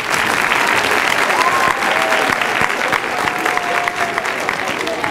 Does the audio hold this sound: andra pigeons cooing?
no